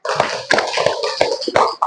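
Several quick, rhythmic hand claps in a short burst in a classroom, close and moderately loud, roughly five beats in under two seconds.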